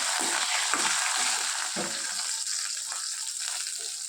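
Chillies, cumin and garlic fry in a pan with a steady, bright sizzle throughout, broken by a few soft scraping stirs.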